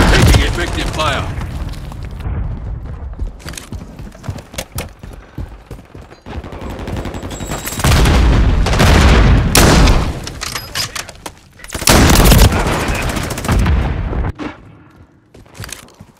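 Gunfire and grenade explosions in a Call of Duty match: rattling bursts of shots and heavy booms swell in loud waves, with shouted voice lines over the combat.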